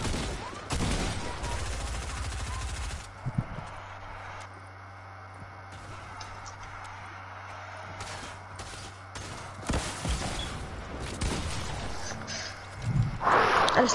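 Rapid bursts of gunfire from a Fortnite squads match, bright crackling volleys at the start and scattered shots later, with quieter gaps and faint movement between them.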